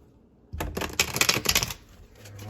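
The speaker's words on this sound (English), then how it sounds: "I'm going to give these cards one more shuffle" Cards are riffled in a quick, close, crisp burst of rapid flutters lasting about a second, then quiet.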